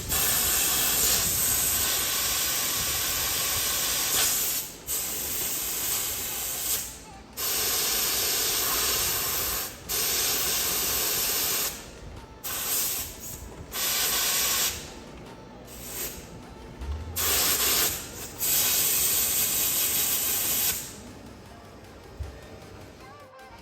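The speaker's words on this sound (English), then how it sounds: "So I'm going to blow from the top down this way and try and blow anything that might be stuck in that intake out this way" Compressed air hisses loudly through the intake tubing of a Porsche Cayman 718, in long bursts that cut off and restart with short gaps, ending in a final extended blast.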